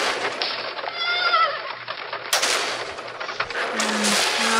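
Horse crossing a bridge in the medieval bridge-building game Bridge Constructor Medieval, with a whinny and rapid hoof clatter under layered game effects and a busy background soundtrack.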